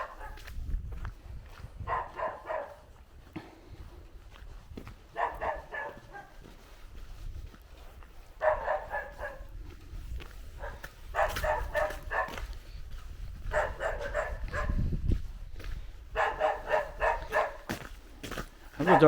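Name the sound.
dog barking in a village garden in Bulgaria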